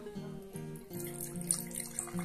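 Water pours into a glass in a rising, gurgling stream, the pitch climbing in steps as the glass fills, close and steady with small splashes and drips.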